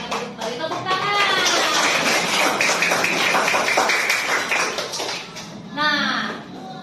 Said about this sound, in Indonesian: Silakan duduk kembali, tepuk tangan.